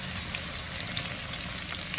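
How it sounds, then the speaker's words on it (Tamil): Anchovies, cleaned and washed, crackle and sizzle steadily in hot oil, a dense continuous frying hiss held close and even throughout with no voices. "கழுவி சுத்தம் பண்ணி வச்ச நெத்திலியை நல்லா போட்டு எண்ணெயில் வறுத்து எடுத்துக்கலாம்"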